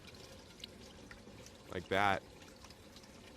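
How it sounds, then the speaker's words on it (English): Water pours down through a device with the lid popped open, a short loud gush of falling, trickling liquid lasting about half a second, preceded by faint splashes, under quiet room tone with someone talking nearby. "I'm sure you guys can hear the water going down"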